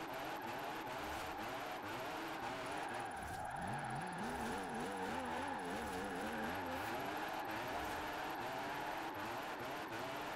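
A rear-wheel-drive drift car in Forza Horizon 4 drones at a steady engine pitch that wavers and climbs as the throttle shifts, a continuous, moderately quiet sound with no voices over it.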